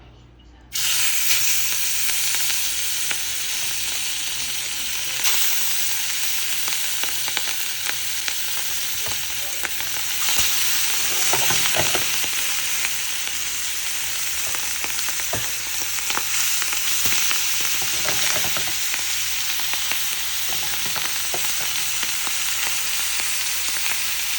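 Hilsa fish frying in hot oil on a steel tawa, with a loud, continuous crackling sizzle that holds steady for over twenty seconds and occasional faint clinks and scrapes. No one speaks.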